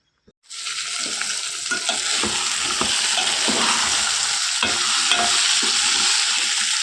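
Onion, tomato and curry leaves fry in hot oil, giving a loud, steady sizzle from the start with frequent scraping stirs and small pops throughout, no voices.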